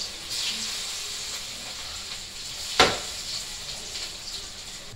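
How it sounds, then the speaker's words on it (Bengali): Steady hissing sizzle of lentil fritters frying in hot mustard oil, with a sharp brief crackle partway through. "আমি ডালের বড়া ভাজছি"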